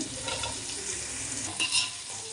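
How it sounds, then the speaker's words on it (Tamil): Carrots and beans being sautéed and stirred in a pan with cooked onions, a steady close sizzle with soft scraping stirs and a couple of brief louder clanks near the end. "கேரட்டும் பீன்ஸும் மட்டும் ஃபஸ்ட்டு வதக்கிக்கலாம்"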